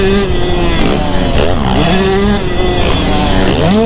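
Two-stroke dirt bike on a motocross track, close and loud, its engine pitch rising and falling repeatedly as the rider blips and rolls on the throttle.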